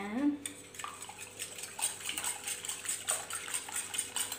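Quick, repeated clinks of a utensil against a bowl while two eggs are beaten with black pepper, salt and herbs, a steady close-up tapping rhythm with faint background hum.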